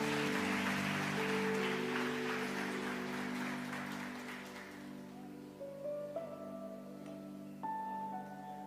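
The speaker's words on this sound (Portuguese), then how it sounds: "Aplauda mais uma vez o Senhor." A church congregation applauds with a broad wash of clapping that fades out over a few seconds while sustained keyboard or organ tones carry on underneath.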